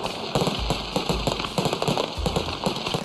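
Strings of firecrackers crackle in rapid, irregular bursts at a factory opening celebration in Dalian, China, with dense popping and occasional deeper thumps from fireworks, loud and continuous.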